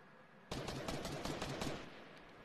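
Fortnite battle royale gunfire: a sudden burst of rapid shots starting half a second in, dense and loud for over a second, then fading into lingering game noise.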